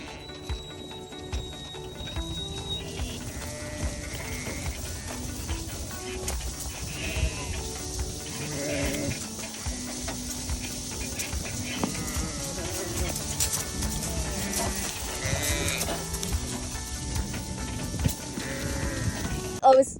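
Ewes bleating at feeding time on an Australian sheep farm, a dense chorus of overlapping calls from a crowded mob running through the whole stretch, loud and close with some hoof and movement noise.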